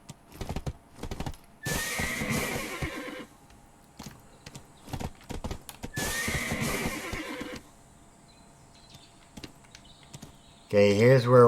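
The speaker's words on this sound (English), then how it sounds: "she used the whistle to call her horse" A horse in the Black Desert video game neighs and whinnies, then its hooves clip-clop as it arrives after a whistle call, in repeated loud bursts separated by quieter stretches.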